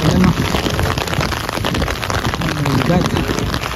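Heavy rain in a severe thunderstorm, a dense, continuous roar of drops hitting surfaces nearby, with a voice speaking over it.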